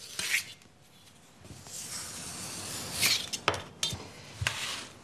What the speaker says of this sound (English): a palette knife, good if it's sticking. Just slide it underneath like that